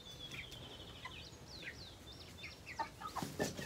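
Several chickens cluck and squawk in short, uneven bursts, growing a bit louder and busier toward the end over a quiet background.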